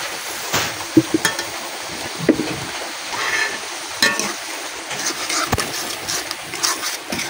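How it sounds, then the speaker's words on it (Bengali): Ground chili, coriander, turmeric and cumin powders with salt frying in oil in a pan during village cooking, giving a steady hissing sizzle with occasional stirring scrapes and knocks, close and continuous with no talk. "এখন লাগাইছে মশলাটা আমি কিছুক্ষণ কষাই নিলাম।"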